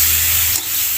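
Eggplant roasting in a pan, a brief steady hiss of sizzling with a faint low hum underneath.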